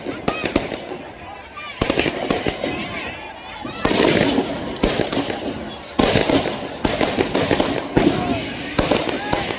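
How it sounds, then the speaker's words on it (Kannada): Firecrackers bursting at a public ceremony, a rapid string of sharp, loud bangs and crackles repeating in several bursts, with crowd voices and talk underneath throughout. "ಪಟಾಕಿ ನಿಲ್ಲಿಸಿ."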